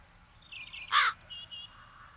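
Crows caw in The Dark Eye: Chains of Satinav, one loud harsh caw near the middle with fainter calls before and after over a low ambient hum.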